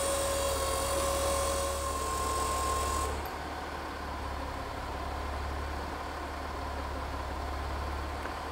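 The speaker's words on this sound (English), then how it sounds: "it's counting out the new oil that it's pumping back into the vehicle" An automatic gearbox oil flush machine hums steadily as it pumps fresh oil into a vehicle, with a constant low mechanical drone and a brief tonal whine that drops away partway through.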